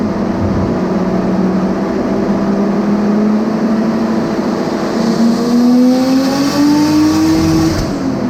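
A turbocharged Mercedes C180 with over 400 horsepower, extra injectors and heavy boost roars loudly on a dyno, its engine note climbing steadily in pitch through a sustained high-rpm pull.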